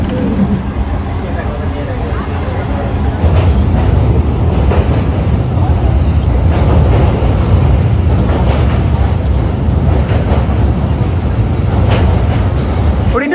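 A fast local train between Kolkata and Nabadwip rumbles steadily along the rails with a continuous low roar and faint rhythmic clatter, and voices murmur underneath.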